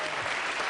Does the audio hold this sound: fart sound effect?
no